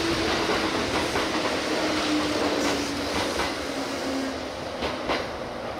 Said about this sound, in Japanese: 685列車、高安行き各駅停車です